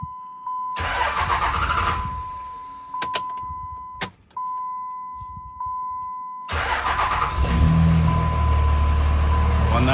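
A 3rd gen Cummins diesel pickup engine cranks and fires after a fuel pump kit install, with a steady high electric whine between cranking attempts, then settling into a rough, loud idle up close.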